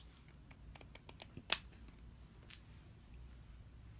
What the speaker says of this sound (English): these scissors go pretty well through the sequins